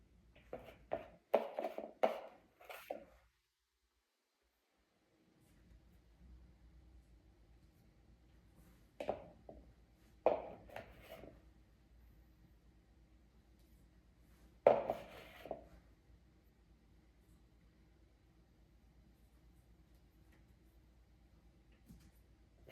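A few short scraping strokes of a warm knife trimming excess frosting off a chilled cake, in quick bursts followed by pauses, close and fairly quiet in a calm kitchen.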